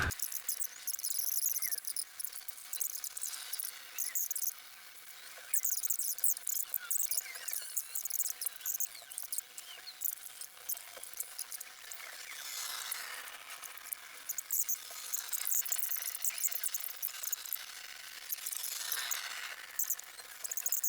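A hand ratchet tightens bolts on the valve cover of a BMW 335d / X5d M57 diesel engine, giving rapid close clicking in continuous runs with brief pauses and no speech.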